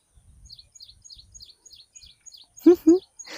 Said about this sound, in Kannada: ನೋಡಿ ಪಕ್ಷಿಗಳ ಸೌಂಡ್ ಇಲ್ಲೂ ಕೂಡ ಹೆಂಗೆ ಬರ್ತಾಯಿದೆ